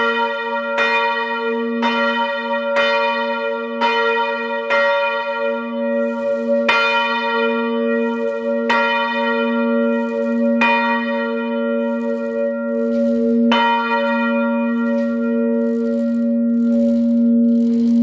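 A single church bell swings and strikes in a steady, even rhythm, each loud clang ringing into a sustained humming tone that carries through to the next stroke, close and alone with no talking.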